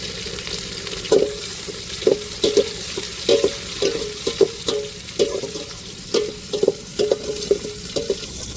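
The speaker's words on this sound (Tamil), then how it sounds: "நம்ம இப்போ தக்காளியை சேர்த்துக்கிறோம் கட் பண்ண தக்காளியை" Chopped tomatoes frying with browned onions in a pan for crab biryani, under a steady sizzle with repeated rhythmic scrapes of a spoon stirring, close and loud.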